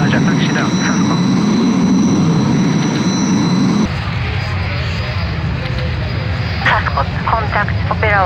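Jet airliner engines droning steadily as the aircraft taxis in the ATC3 air traffic control game at Ibaraki airport, a constant loud rumble with a shift in tone midway and radio-style voices talking over it.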